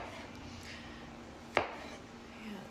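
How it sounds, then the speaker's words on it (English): A single knife chop through a mushroom on a cutting board, one crisp close tap against a quiet, steady kitchen background. "So I'm just gonna quarter these mushrooms"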